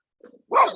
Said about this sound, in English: You don't need to bark at us.